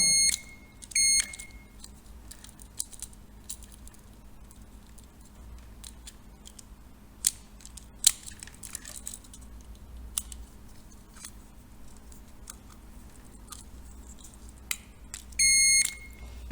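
A continuity tester beeps as the contact button on a magnetic starter is pressed: two short bright tones near the start and another at the end. Faint handling clicks and a low background hum fill the middle, with no talking.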